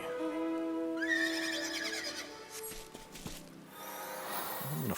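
A horse mount in the Final Fantasy XIV video game lets out a loud, close, drawn-out whinny that rises and quavers, followed by snorting and a few hoof clops.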